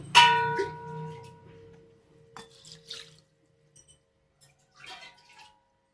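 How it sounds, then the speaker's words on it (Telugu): Water is poured over soaking rice in a bowl, a brief splashy gush at the start followed by a few fainter trickles and clinks. "సో ఇందులో వాటర్ అనేది వేసేసుకోవాలి."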